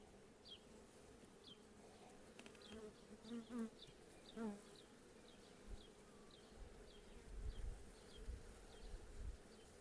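Honey bees buzz around a capped honey frame lifted from a hive, faint scattered wingbeats and passing drones over a low hum, with a few soft handling bumps.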